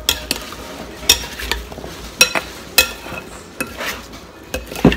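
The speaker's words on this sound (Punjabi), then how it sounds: "ਮਸਾਲਾ ਚੰਗੀ ਤਰ੍ਹਾਂ ਮਿਕਸ ਕਰਨੀ।" Fruit chaat is mixed with spices in a bowl, giving repeated scraping and clinking strokes at an uneven rhythm, moderately loud and close, with no talking.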